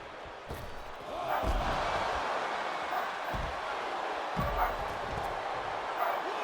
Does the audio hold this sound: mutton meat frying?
no